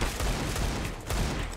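Gunfire in CS:GO: a fast, dense burst of rifle shots rattles continuously, fairly faint and muffled in the game mix, with no speech.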